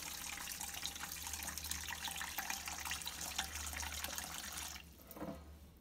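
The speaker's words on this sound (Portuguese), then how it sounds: "Eu vou pôr água." Tap water runs steadily into a basin holding half a kilo of chicken breast, a continuous close splashing stream for about five seconds that stops abruptly, leaving a brief drip.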